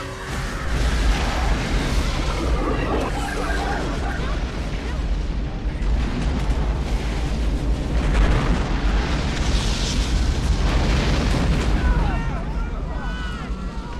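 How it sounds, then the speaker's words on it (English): A massive explosion roars into a sustained, rumbling blaze with deep booms and crackling bursts, loud and continuous, with voices occasionally audible underneath. "it's just gigantic oil tanker explosion"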